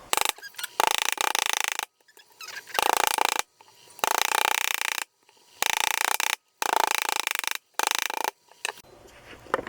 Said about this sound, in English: I'm going to pound them down as flat as I can